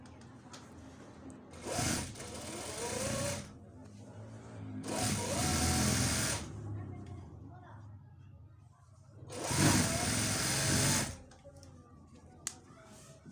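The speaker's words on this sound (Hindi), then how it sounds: "अब हम यहाँ पे सिलाई लगाएंगे ऊपर वाली साइड पे" A domestic sewing machine stitches a child's shalwar, running in three loud bursts of steady whirring with quieter pauses between them, and a voice talks in the gaps.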